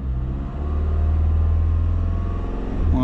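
Car engine revving up and holding a steady, loud mid-pitched roar during an alternator charging test with the headlights having drained the battery, close and alone, easing briefly then rising again.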